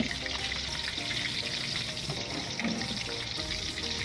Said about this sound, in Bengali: ভেজে নিচ্ছি পেঁয়াজ কুচি। ভালো করে নেড়ে তেলের সাথে মিক্স করে নিচ্ছি।